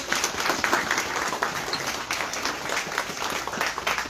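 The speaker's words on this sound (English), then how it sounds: "Give a round of applause to it as well" Sustained audience applause fills a scholarship event for a 26th-anniversary foundation gathering, a steady dense patter of many hands clapping at moderate loudness throughout, with no voices over it.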